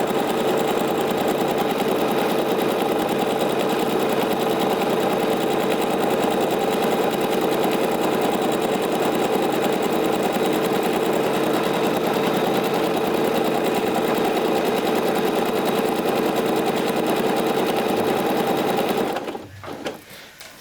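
A sewing machine stitching an elastic-thread smocking line on fabric for a blouse or dress runs steadily and loudly for about nineteen seconds, then stops abruptly near the end.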